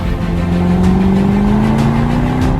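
A Lister Stealth SUV, based on the Jaguar F-Pace SVR with a 666 bhp supercharged engine upgrade, drives past with a loud, steady engine roar that climbs gradually in pitch as it accelerates.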